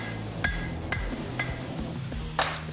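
A hammer strikes round mild steel bar stock while a sword pommel is forged, four or five sharp ringing metallic blows spaced about half a second apart, close and clear over low background noise.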